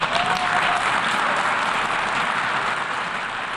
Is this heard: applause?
yes